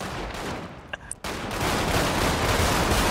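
Gunfire in a GTA 5 roleplay game, a dense, loud burst of rapid shots that starts abruptly after a brief lull with a few sharp clicks and then rattles on continuously.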